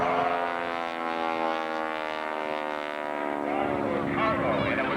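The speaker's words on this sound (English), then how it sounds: "a biplane, much like this one overhead" A biplane flies overhead at the 1991 Cleveland Air Show, its propeller engine a steady, loud droning hum with layered harmonic tones that swell slightly as it passes, continuous for the whole stretch.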